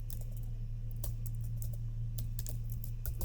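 Rapid keystrokes on a computer keyboard while entering data into an Excel spreadsheet, a steady patter of close, light clicks over a constant low electrical hum, with no talking.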